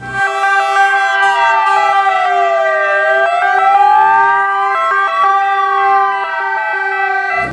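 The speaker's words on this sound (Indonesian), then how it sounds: "Wow, ada mobil ambulan." A loud toy ambulance siren wails continuously, its pitch sweeping up and down over steady electronic tones, with no pauses.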